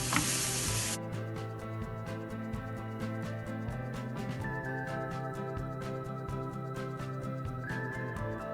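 Onions and grated carrots fry in a pan and get stirred, a continuous sizzle broken by scraping and clattering spoon strokes, close and fairly loud throughout.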